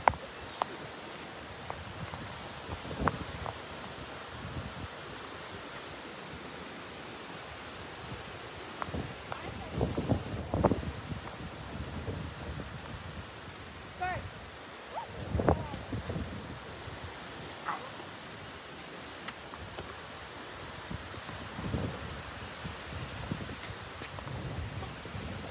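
Steady outdoor wind noise buffets the microphone, with faint rustling and occasional soft bumps throughout.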